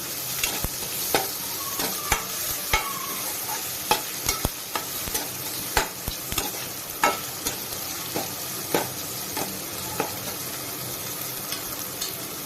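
Cumin and coconut tempering for a Konkani-Malvani style dal stirred in a sizzling pan, with steady frying hiss and a run of sharp spoon scrapes and clinks at irregular intervals, close and clear with no talking.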